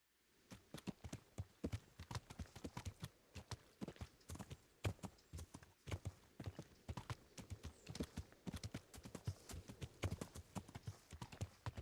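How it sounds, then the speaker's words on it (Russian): A horse gallops in Kingdom Come: Deliverance, its hooves striking in a fast, steady, rhythmic clip-clop that runs close and clear for the whole stretch, with no voices over it. "Дрифт на лошади."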